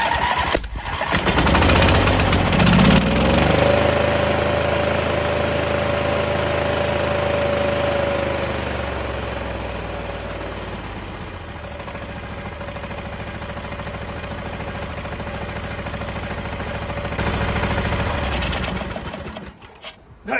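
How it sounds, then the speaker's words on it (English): An MTD garden tractor's two-cylinder engine cranks, catches and runs with a loud, steady rapid chatter close by, easing slightly lower before rising again near the end. "It's clearly running on both cylinders."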